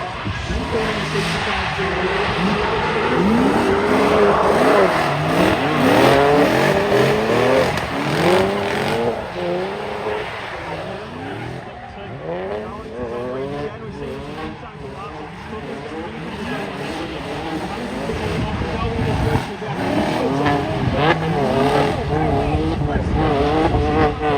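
Drift cars from a BMW E90 build series race down a straight and into corners, their engines screaming through repeated revs and gear changes with bursts of tire squeal. A commentator talks over the loud, continuous racket.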